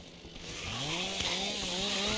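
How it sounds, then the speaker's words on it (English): Chainsaw in the Survive The Nights video game starting up and revving, the engine pitch climbing then holding a steady buzzing drone, loud and close with no talk. "Oh, I get to use my new chainsaw."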